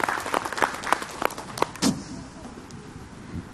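A handful of scattered, separate hand claps from a small audience welcoming a speaker at an Islamic talk, spaced irregularly over the first two seconds before fading into near silence.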